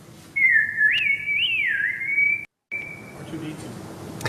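Warbling R2-D2-style electronic whistles and chirps slide up and down in pitch, then a steady tone, over a soft background hiss; no talking.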